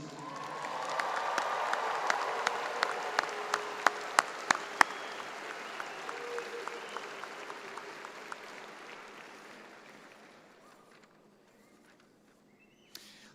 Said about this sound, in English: Let's give one more big round of applause for our newest alumni, our graduates.